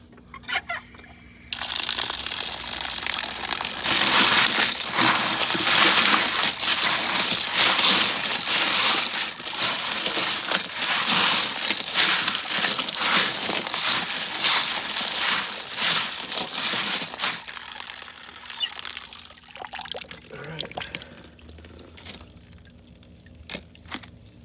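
Tumbled rocks and ceramic tumbling media being rinsed in water after stage four of rock tumbling, a steady sloshing, clattering wash of stones for most of the stretch, close and fairly loud, tapering off near the end.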